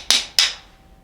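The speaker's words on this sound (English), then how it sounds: "you just hammer out the valve like you normally would." Two sharp metal hammer blows, about a quarter second apart, knock a Wessex Z rotary valve out of a brass instrument; each strike rings briefly and then fades into a quiet room.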